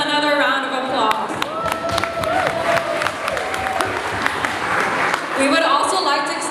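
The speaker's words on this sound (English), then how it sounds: "Let's give them another round of applause." A round of applause for the judges at a teen beauty pageant, crowd clapping and cheering steadily for several seconds, with speech over it near the start and end.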